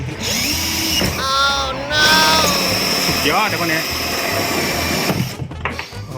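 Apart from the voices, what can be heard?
drilling holes in a water pipe for a fish pond filter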